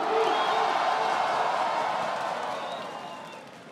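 A live crowd at a rap battle grand final cheers and applauds, a dense steady roar of clapping and whoops that gradually fades toward the end.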